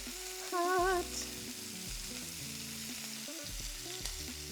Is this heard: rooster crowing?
no